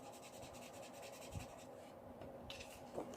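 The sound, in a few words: Spectrum Noir Tri Blend marker drawing on paper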